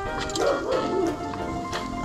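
A dog barks and yips at a home barbecue, with a few short whiny barks running into one another over a steady background hum.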